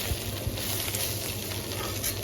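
Slices of teasel gourd (kakrol) fry in hot oil, giving a steady, close crackling sizzle that holds evenly throughout with no voices.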